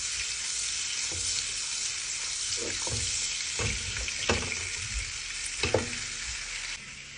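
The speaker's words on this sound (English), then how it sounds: "next I'm going to be adding a little bit of butter" Butter melting into about 200 ml of hot oil in a pot sizzles steadily, with a continuous frying hiss broken by a few sharp crackles and spits, close and moderately loud.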